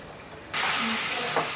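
Chicken frying in a pan with chilli powder and salt over a low flame, a steady close sizzle that swells suddenly and stays loud, with a brief stirring scrape near the end.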